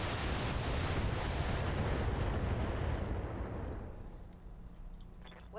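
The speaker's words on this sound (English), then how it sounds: "Firing all weapons." A mech firing all of its weapons in the Battletech video game, a dense roaring barrage that holds loud for about three seconds and then fades into a rumbling tail.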